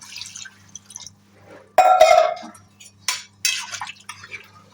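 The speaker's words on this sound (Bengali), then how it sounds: "এবার এর সাথে জল অ্যাড করবো" Water poured into a pan of soybean curry gives a short splashy burst midway, followed by a few clinks and stirring sounds of cookware against a quiet low hum.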